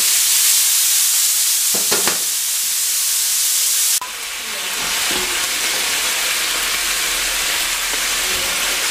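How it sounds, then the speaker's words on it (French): Bacon lardons fry in a pan, releasing their fat with a loud, steady sizzle and hiss throughout, a couple of brief stirring scrapes near the start and a pan shift midway. "je vais d'abord faire revenir mes lardons, qui eux vont rendre de la matière grasse"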